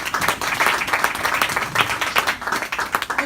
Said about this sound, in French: Nous allons applaudir l'Éternel.